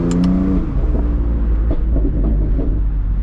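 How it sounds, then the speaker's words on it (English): Engine and exhaust of a BMW F82 M4 with a retuned exhaust, burbling and rumbling close by for a few seconds, with a couple of sharp pops near the start over a steady low drone. "I can hear the burbles too."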